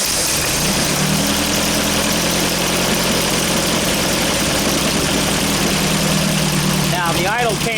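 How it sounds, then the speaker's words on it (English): An engine fitted with Weber or Dellorto carburetors settles from a raised idle to a steady low idle, a loud continuous drone close by, with someone talking briefly near the end. "So now we're back down to an idle, and it doesn't make any difference."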